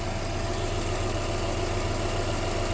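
A car engine idles steadily up close, an even low mechanical hum with a faint rhythmic pulse and slight knocking texture, unbroken and without speech.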